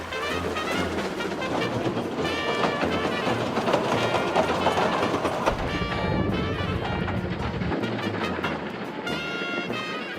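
A train running on the Cambrian Line railway in Wales, heading toward Aberystwyth, rumbles steadily throughout with continuous rail noise and clickety-clack, loud and close, with a brief dip in low rumble midway.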